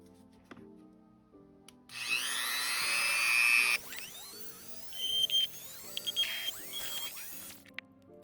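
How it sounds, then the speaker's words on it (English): A Dremel rotary tool drills a hole into a plastic Marvel Legends Knull action figure. A steady high whine runs for several seconds, and the pitch shifts as the bit bites into the plastic, close and clear over quiet background music. "I'm gonna use this Dremel just to drill a hole first"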